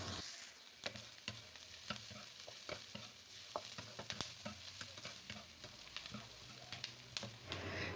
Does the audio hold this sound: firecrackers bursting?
no